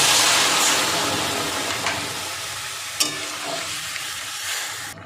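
Fish roe frying in a pan lets out a loud, broad hissing sizzle that slowly fades as water is poured in, with a few scraping clicks along the way and no talking.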